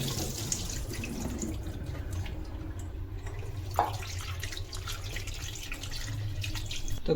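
Prawns are rinsed under a running kitchen tap, a steady close splash of water with occasional drips and faint handling clunks, no voices.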